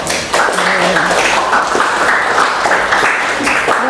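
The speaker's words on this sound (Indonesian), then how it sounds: "beri aplaus dulu untuk kelompok 1" Audience applause for student presentation groups 1, 2 and 3 in an academic coaching and supervision session, a steady broadband clapping wash lasting a few seconds at moderate loudness.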